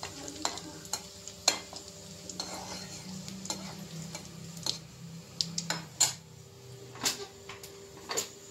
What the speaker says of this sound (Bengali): আলু আর কি বন্ধুরা ভাজা ভাজা হয়ে গেছে, অল্প হলদি দিয়ে ভাজছি।